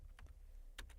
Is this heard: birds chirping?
no